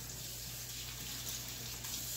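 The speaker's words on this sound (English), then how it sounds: "I wash it until the water runs clear, okay?" Tap water runs steadily while rice is rinsed in a kitchen, a constant close hiss of flowing water with no break and no voices.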